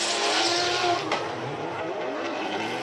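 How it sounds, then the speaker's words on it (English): Drift cars in a Formula Drift Japan twin battle at Suzuka, engines roaring and tires squealing loudly at close range throughout, with a brief sharper skid burst about a second in. "Sato losing it right there, tipping over 3 tires in that chase position"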